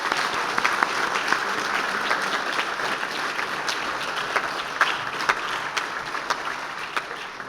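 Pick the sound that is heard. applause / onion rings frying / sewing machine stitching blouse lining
applause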